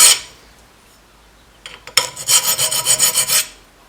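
A hand file rasping a sharpening choil into a Bowie knife blade: one sharp scrape at the start, a few short scratches, then a run of about eight quick rhythmic back-and-forth file strokes, close and fairly loud.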